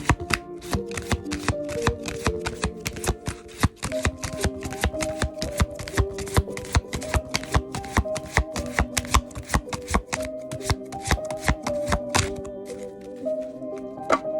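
Tarot cards are shuffled close by in a fast, rhythmic run of sharp riffling clicks and snaps that keeps going throughout.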